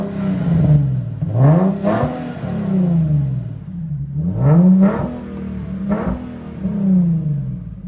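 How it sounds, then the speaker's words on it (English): A 2009 Nissan 370Z drift build, just cold-started, is revved several times, each loud blip climbing and dropping back to a rough idle close to the car, with no talking. "Cold start though."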